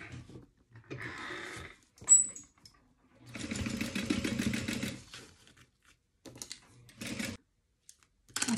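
A sewing machine stitches the sides of a storage cubby made from a bubble mailer envelope, in short close bursts of whirring separated by pauses, with one longer run in the middle.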